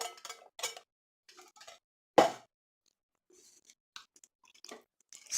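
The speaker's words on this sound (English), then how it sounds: "And now I'm going to add 1 can of drained black beans" Black beans from a drained can plop and slide into a pot of chili, a few soft wet thuds and one louder splatting plop with quiet gaps between.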